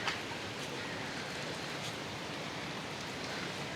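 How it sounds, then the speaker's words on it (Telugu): Heavy rain pours down steadily during a windy storm at Gokarna, a dense, even hiss that stays constant throughout with no voices. "వర్షం అయితే ఫుల్ వస్తుంది."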